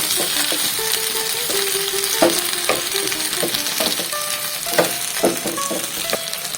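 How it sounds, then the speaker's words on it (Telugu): Soaked tamarind and fenugreek leaves frying on a low flame for a methi chutney, a steady close sizzle with stirring scrapes and light clinks throughout; no one speaks. "ఇవన్నీ కొంచెం లో ఫ్లేమ్లో పెట్టుకొని వేయించుకుందామండి."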